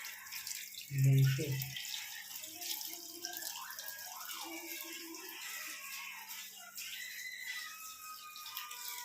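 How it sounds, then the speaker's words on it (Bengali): Tap water runs steadily while raw meat is washed by hand at a home sink. There is one brief louder splash early on, and someone talks quietly over the faint running water. "আমি মাংসটা ধুতে স্টার্ট করে দিয়েছি"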